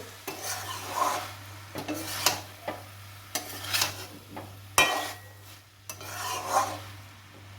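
Chicken mince and peas are stirred in a pan with salt, giving repeated scraping, rasping strokes of a spatula against the metal over a light sizzle, irregular and close, with no talk.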